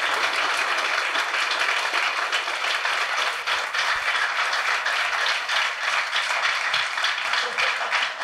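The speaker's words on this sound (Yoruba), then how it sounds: "ṣáà tẹ́wọ́ tó rinlẹ̀ fún iléèwé ẹ̀" A crowd applauds a school at a Yoruba-language debate competition between schools, with steady, dense clapping that holds for about eight seconds and stays loud and continuous throughout.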